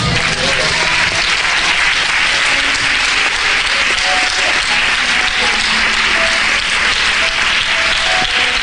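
A church congregation applauds steadily during a Spanish-language sermon, dense continuous clapping filling the room at full volume with no talking over it.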